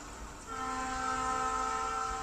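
A train passing nearby on the tracks, with a steady loud rumble that swells after a moment and holds with a sustained tonal hum, no voices over it.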